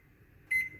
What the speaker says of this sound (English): I'm just going to go ahead and set my timer for